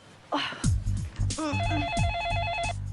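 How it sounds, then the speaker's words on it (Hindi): Telephone ringing in a Hindi sitcom scene, an electronic warbling ring that sounds repeatedly under background music and effects. "फोन आया।"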